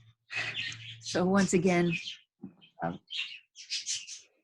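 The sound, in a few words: pet birds chirping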